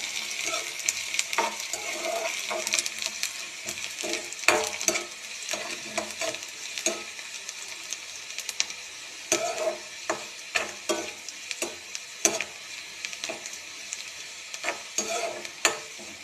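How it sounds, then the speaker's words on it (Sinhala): Garlic fries in a pan after mustard seeds have popped, a soft steady sizzle broken by frequent scraping clicks of a spoon stirring, close and fairly quiet. "සුදු ලුණු ටිකක් දාලා පොඩ්ඩක් හරවෙන්න අරිමු මේක"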